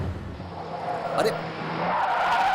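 Car tires skid and squeal under reckless, fast driving, a sustained broadband screech building through the whole moment with a brief sharper burst midway, while a voice speaks over it.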